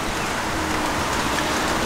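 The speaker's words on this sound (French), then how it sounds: "il pleut, hein." Steady rain falling outdoors, a constant broadband hiss throughout with no break or voices.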